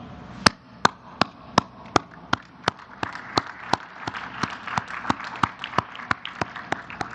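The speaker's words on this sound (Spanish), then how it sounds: "Un aplauso." Applause at a press conference, heard as a series of sharp, regularly spaced claps, roughly three per second, with a faint background murmur beneath.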